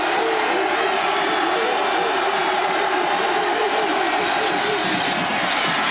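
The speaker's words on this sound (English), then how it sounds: "the crowd is very loud down at that end of the field" A huge, steady crowd roar fills a college football stadium during the 1998 Texas A&M at Oklahoma State game. The roar stays loud and unbroken throughout, with no clear talk on top.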